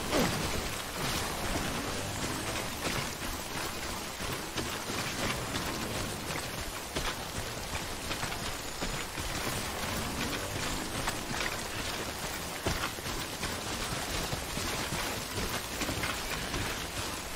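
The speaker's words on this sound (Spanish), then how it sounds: "¿Pero no para de llover o qué mierda pasa, tío?" Steady, dense rain pours down in the video game Death Stranding, a constant broadband hiss with scattered heavier drops and no voices over it.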